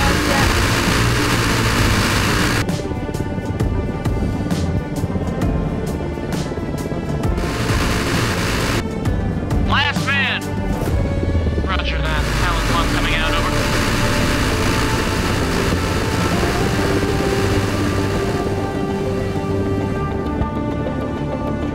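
Military helicopters in the Arma Reforger video game drone loudly and steadily with a deep engine roar and rotor wash, close and continuous, while voices speak over them.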